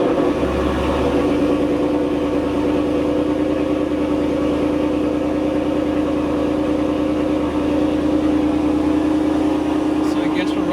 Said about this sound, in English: So as you'll see here, I'm about to start the car up.